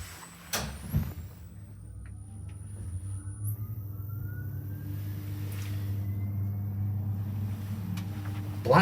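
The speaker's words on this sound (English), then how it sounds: "Listen to this motor." A lift motor hums low and steady throughout the ride, with a rising whine building over the seconds and a couple of clunks near the start.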